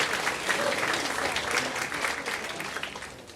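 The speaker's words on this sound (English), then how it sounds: "So give yourselves a big round of applause." Dense, steady applause from an audience at a sixth-grade school band event, with many hands clapping together close by and filling the whole stretch, fading slightly toward the end.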